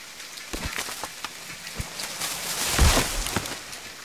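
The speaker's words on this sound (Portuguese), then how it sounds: "Barulho de chuva mais esquisito" Rain patters inside a house in the survival game The Forest, a steady broadband hiss with scattered sharp drips and knocks and a louder burst of splashes near the end, no voices.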